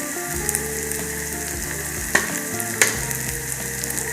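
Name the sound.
spice masala frying in oil for fish fry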